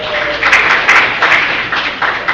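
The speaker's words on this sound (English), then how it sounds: "Give it up for yourselves for coming out looking awesome." An audience at a comedy show in Ohio applauds loudly, the clapping swelling in several uneven bursts across a couple of seconds.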